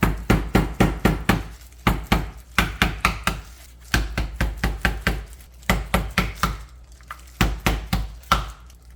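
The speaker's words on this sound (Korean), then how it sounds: "이렇게 살짝만 두드리면 여기 좀 부드러워져요." Repeated thuds of deodeok root being pounded flat to soften it, coming in quick clustered bursts of sharp, close knocks separated by brief pauses.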